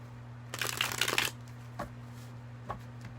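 Tarot cards being shuffled by hand indoors, a quick riffling burst lasting under a second followed by a few soft taps and card handling sounds, quiet over a low steady hum.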